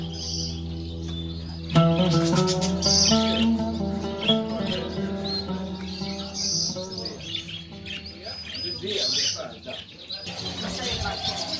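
Birds chirping and tweeting at a bird market in Doha, busy overlapping calls close by with some cooing, heard under music and voices throughout.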